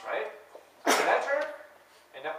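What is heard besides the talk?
sneeze in lecture hall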